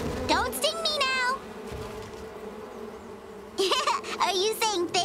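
Cartoon bees buzz in an animated children's show, a droning hum heard under a child character's voice, which speaks in bursts at the start and end.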